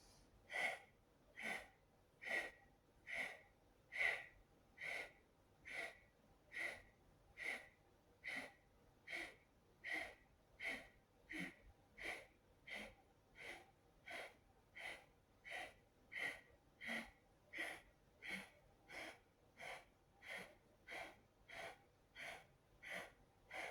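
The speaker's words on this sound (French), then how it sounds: "on va faire 20 secondes de respiration Kapalabhati à votre rythme" Rapid Kapalabhati yoga breathing, forceful nasal exhales pumping out about once per second for some twenty seconds, close and steady in rhythm with quiet inhales between.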